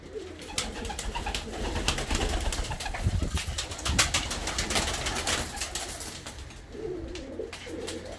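Pigeons coo in low, throaty bursts amid a busy flock, with steady rustling and scattered clicks filling the background.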